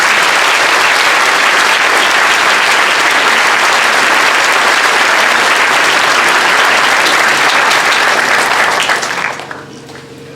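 Loud, sustained applause from a large audience at a 2019 high school commencement fills the hall with dense clapping that continues evenly before tapering off abruptly near the end.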